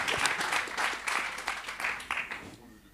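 Audience applause at a round-table session on sustainable development communities, a burst of many hands clapping that swells and fades after about two and a half seconds, with voices talking underneath.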